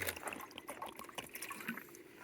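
Water is poured into a pot for cooking on the Pacific Crest Trail, a soft trickling and splashing that stays close and quiet throughout, with no talk.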